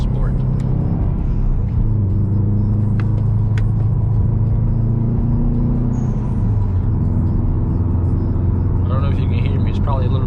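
Road noise inside a 2020 Subaru WRX STI on the move, a loud continuous low rumble with a droning engine tone, steady for the whole stretch with faint higher sounds from the cabin.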